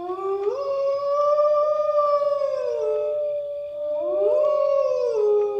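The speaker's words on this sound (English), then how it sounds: "Wolves, that's a wolf there." A wolf howls in long, clear, wavering tones: two sustained howls rising and falling, loud and fairly close, with no talking.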